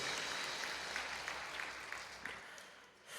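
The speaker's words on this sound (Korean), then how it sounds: "우리 임마누엘 하나님 앞에 영광의 박수 올려드립니다" A church congregation at a Christmas service claps steadily throughout, a dense wash of applause that fades slightly near the end.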